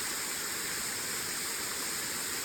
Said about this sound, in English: And as you can see, I found my waterfall.